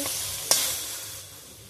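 Kulekhara leaves stirred in a pan after the lid comes off, a soft sizzle with a sharp scrape of the spoon partway through, then quieter frying.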